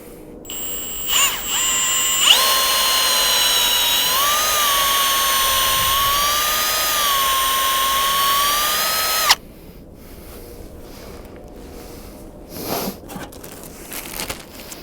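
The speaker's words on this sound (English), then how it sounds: "Just drill my hole at a slight upward angle and get it all set up." A power drill bores a tap hole into a maple tree, a high steady whine running several seconds with slight pitch wavers, then stopping abruptly, followed by faint handling clicks.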